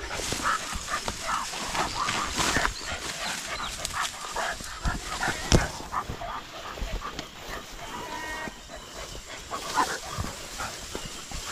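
A fat, neutered dog barks repeatedly in short bursts, mixed with high whimpering and whining sounds, fairly close and loud throughout, near a waterfall.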